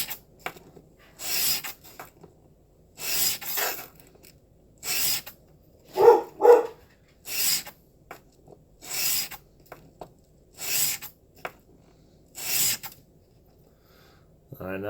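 A single bevel broadhead drawn in light, separate sharpening strokes, each a short dry rasp, about a dozen spaced through the passage, close and alone.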